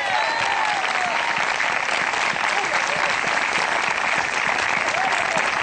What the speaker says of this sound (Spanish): Yo quisiera que usted le diera un aplauso al Señor si es creyente de verdad